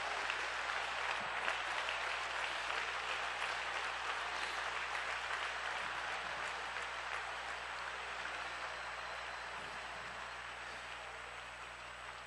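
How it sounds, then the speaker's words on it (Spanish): A congregation at a church convention claps in a continuous, even wash of applause that stays fairly distant and slowly tapers, with no voices standing out. "Dele un aplauso grande al majestuoso en esta noche."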